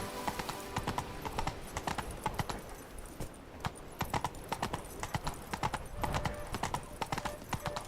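Roach the horse gallops in Witcher 3, a steady run of close hoof clip-clops with scattered sharper hoof strikes repeating across the whole stretch and a faint whinny.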